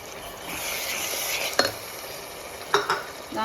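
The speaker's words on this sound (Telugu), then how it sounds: "మనం మసాలా మిక్సీకి పట్టేసుకున్నాం కదా ఈ మసాలా అంతా వేసేసుకున్నాం" Ground masala paste stirred and sizzling in a pan for a village-style country chicken curry, with a steady close hiss and a few scraping stirs, no talking.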